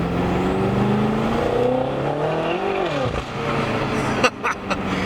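A BMW F10 M5 engine drones and revs steadily, heard with the windows open, then a few sharp exhaust pops crackle near the end.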